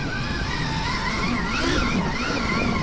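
A Stark Varg electric motorcycle fitted with a sound system mod gives out a synthetic engine-like tone that rises and falls in pitch, steady and fairly close, with no talking over it.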